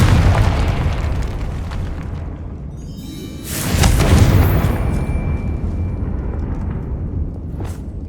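A Confringo fire spell explosion in the video game Hogwarts Legacy, a deep booming blast that rises midway over a rumbling background, followed by lingering crackle and a short sharp pop near the end.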